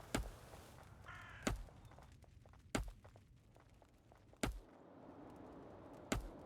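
Crows in the video game Dungeons 4 let out a series of sharp, evenly spaced caws, about five loud calls over a quiet ambient background.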